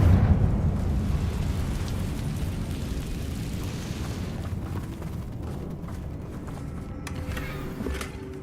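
A Confringo fire spell bursts in Hogwarts Legacy, a loud rumbling explosion that starts strong and rolls on as a sustained low roar, fading slightly with a few crackling debris sounds near the end.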